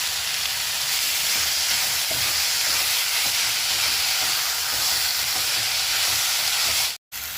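Grated paneer is stirred into a hot pan of vegetable stuffing for stuffed capsicum, giving a continuous frying hiss with faint scraping from the stirring, steady and fairly loud, with no voices.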